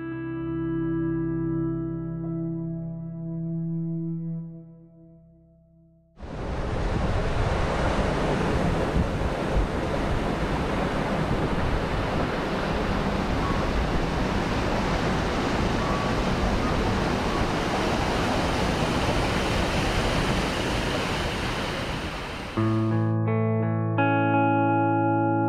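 Waterfall at the Fairy Pools on the Isle of Skye, a loud, steady, broadband rush of falling water that cuts in suddenly and runs unbroken for about seventeen seconds between stretches of music.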